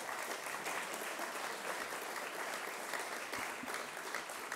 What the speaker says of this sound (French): Vous pouvez l'applaudir, Marco.